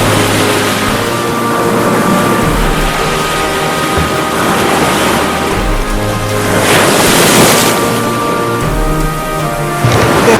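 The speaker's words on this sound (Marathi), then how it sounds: "इतका हा शांत निवांत समुद्र." Sea waves at Velneshwar beach in Guhagar roll in loudly and continuously, with a bigger surge breaking partway through, all heard without voices.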